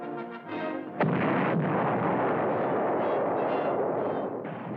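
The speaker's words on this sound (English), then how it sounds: "From 6 miles away, this is the terrifying effect of one small bomb." Atomic bomb explosion in archival wartime film, seen from six miles away: a sudden loud blast followed by a sustained, dense roaring rumble that holds steady for several seconds, with no voices.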